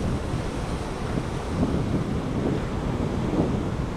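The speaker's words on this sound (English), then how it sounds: "You see how the waves are falling out there?" Steady ocean surf along the Tobago coast, with waves breaking offshore in deep water, blends into a continuous roar under strong wind buffeting the microphone, with no voices.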